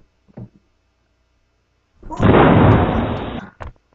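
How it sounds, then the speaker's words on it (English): Grenade explosion sound effect, a single loud, dense blast that holds for about a second and a half before cutting off, with short pops before and after. "let's try the grenade."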